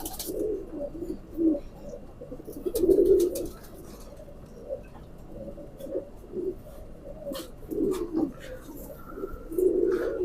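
Large pigeons cooing nearby in repeated soft, throaty bursts, low murmuring calls rising and falling with brief gaps between them.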